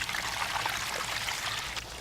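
About three and a half litres of water are poured into a wooden trough to make plaster glue, a steady close splashing stream with no voices.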